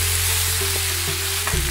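Slices of raw banana frying with salt and turmeric in a pan give a steady, close sizzle with faint stirring scrapes, and a low hum runs underneath.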